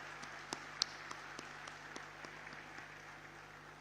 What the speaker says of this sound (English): Let us have a resounding of claps in order to greet all the dignitaries on the dais